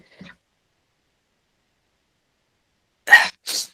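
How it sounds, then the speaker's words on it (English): After a long quiet stretch, a single sneeze breaks out in two sharp bursts, close by. "Sorry, had to sneeze."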